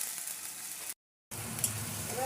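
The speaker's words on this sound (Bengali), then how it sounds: "পেঁয়াজ বাটাটা একটু ভাজা ভাজা করে নেব" Onion paste fries in hot oil for potol dorma, giving a steady, close hiss of sizzling broken by a brief gap of silence before the frying resumes.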